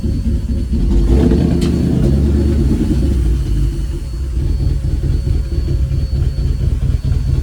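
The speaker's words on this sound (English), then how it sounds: "we managed to get the Audi in the garage" An Audi S5 engine idling and rumbling loudly up close while the car reverses slowly into a tight garage, with a low steady drone and slight rises in revs.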